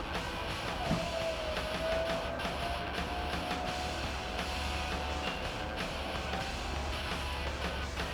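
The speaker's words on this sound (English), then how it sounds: "I'm going to go ahead and put the top up for you." Power top on a 1970 Dodge Challenger R/T convertible being raised, a faint steady mechanical whir and low motor drone with light creaks, close by and with no speech.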